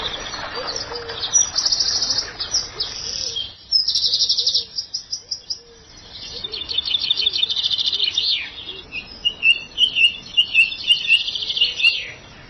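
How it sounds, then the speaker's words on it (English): Dense, loud birdsong fills a garden at Highgrove, with many overlapping chirps and trills from several birds, continuous and close, without speech. "the sheer amount of bird song is just absolutely phenomenal"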